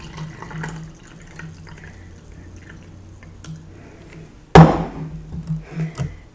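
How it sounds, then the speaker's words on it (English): Houjicha green tea poured into a glass makes a sudden loud splash of liquid that continues as gurgling, uneven pouring for the last couple of seconds, after a quieter stretch of soft handling sounds. "So now I'm going to pour myself this green so it doesn't oversteep."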